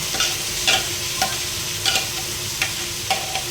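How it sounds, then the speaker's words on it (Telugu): Marinated chicken frying with mint in a heavy pot for biryani gives a steady, close sizzle, with regular scraping stir strokes about every half second to second. "ఎన్ని బాగా ఫ్రై అవ్వాలి ఇందులో ఇప్పుడు మ్యారినేట్ చేసి పెట్టాను చికెన్ అయితే వేసేసుకున్నాం"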